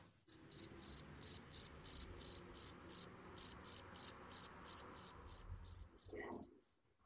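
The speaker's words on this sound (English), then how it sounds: "What is that insect? It's a cricket." A cricket chirps in a steady run of about twenty evenly spaced, rapid pulses, bright and clear against near silence, with a faint low rumble near the end.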